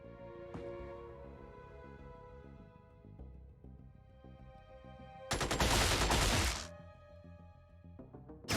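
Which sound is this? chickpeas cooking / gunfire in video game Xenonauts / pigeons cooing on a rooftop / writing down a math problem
gunfire in video game Xenonauts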